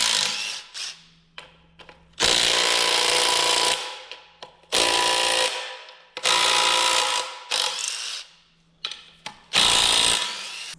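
Power-tool wire brush scouring the outside of an NV4500 transmission case, loud harsh whirring bursts lasting a second or two each, separated by quiet pauses where the motor spins down.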